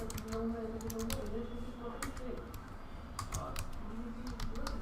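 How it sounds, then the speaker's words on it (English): Quick bursts of keystrokes on a computer keyboard, irregular clusters of clicks heard faintly over a low room hum. "then we'll start typing the matter"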